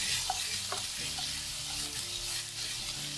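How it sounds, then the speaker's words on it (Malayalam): Cumin seeds and ginger garlic paste sauté in a pan for a beans and potato masala, a steady broad sizzle with a few scraping stirs of a spoon, close and alone. "ജീരകത്തിൻ്റെ കൂടെ നമുക്ക് ഒരു 1/2 ടീസ്പൂണോളം ഇഞ്ചി വെളുത്തുള്ളി പേസ്റ്റ് കൂടെ ചേർത്തിട്ട് ഒന്ന് വഴറ്റിയെടുക്കാം."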